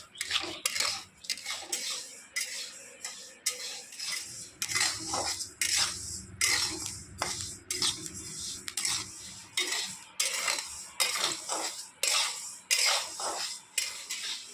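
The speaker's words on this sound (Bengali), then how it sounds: "এবারে এভাবে নেড়ে নেড়ে ভেজে নেবো" Rice dry-roasts in a pan with a pinch of salt, a utensil scraping and clattering against the metal in a steady, repeated rhythm of close, bright strokes with no talk.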